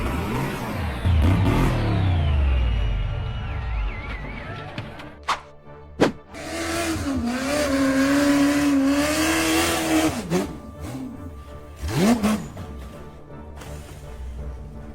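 A 4x4 off-road vehicle's engine revs hard on a steep hill climb, rising and falling in pitch with sustained strained roaring, sharp knocks and thumps, and a final loud surge.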